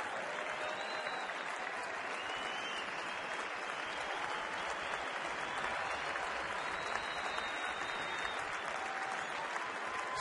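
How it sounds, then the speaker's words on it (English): Sustained applause from a baseball crowd giving a standing ovation at a stadium in Colorado, a steady, dense wash of clapping that holds evenly from start to finish, moderately distant. "a standing ovation from the crowd"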